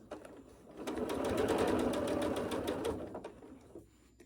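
A sewing machine runs steadily while stitching the large curves of a quilt, a fast, even whirring rhythm that rises and holds before slowing and stopping, close and moderately loud, with no voices.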